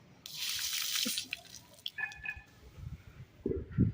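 A short splash of water pours out over a clay pot coated with lime, followed by scattered drips and a few hollow knocks, close by and fairly quiet.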